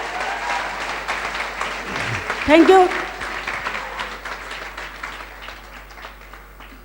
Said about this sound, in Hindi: मैं चाहूँगी मेरे गुरु अवधेश यादव के लिए एक बार जबरदस्त ताली हो जाए।